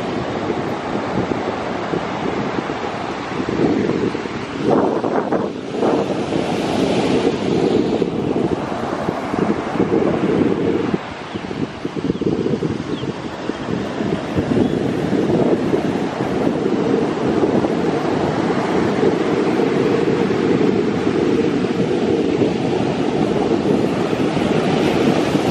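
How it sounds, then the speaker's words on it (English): Waves roll and wash across a huge, open Atlantic Ocean beach under constant wind buffeting the microphone, a steady loud roar with a few brief louder surges and no voices. "Never seen a beach this big in my life."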